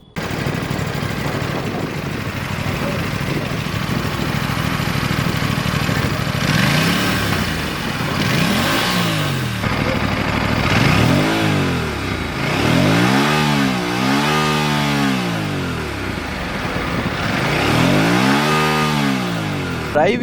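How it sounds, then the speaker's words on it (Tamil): Aprilia RS457 motorcycle exhaust being revved, starting with a steady idle, then a series of sharp throttle blips rising and falling in pitch, loud and close, with about six repeated revs in the second half. "ஃபஸ்ட்டு விஷயம் பார்த்தீங்கன்னா இந்த பைக்கோட எக்ஸாஸ்ட் சவுண்டு தான்."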